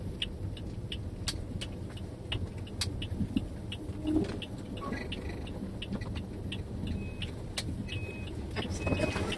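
An automatic car drives at low speed with a low, steady engine and road rumble. Light clicks and rattles from inside the cabin come and go over the drone.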